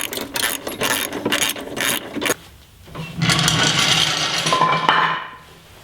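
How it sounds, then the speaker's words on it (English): Ratchet tightening nuts on a bumper tie-in bracket during a JcrOffroad rear bumper install on a Jeep Cherokee XJ, a close run of rapid clicking strokes that pauses briefly, then resumes in a longer, louder continuous burst. "now you can tighten this bumper tie-in bracket down and any other nuts and bolts you might have missed along the way"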